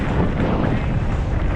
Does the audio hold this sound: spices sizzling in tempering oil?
no